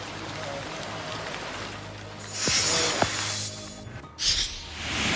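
Heavy monsoon rain pours in the Bhor area of Pune district, a dense, loud, continuous hiss of rain on surfaces that grows stronger midway, with a few sharper splashes.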